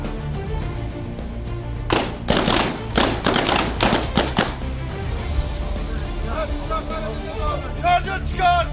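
Rifle shots fired from the prone position during military weapons training, a rapid string of loud, close cracks and thumps in a dense cluster, followed by shouted commands and voices over a steady background rumble.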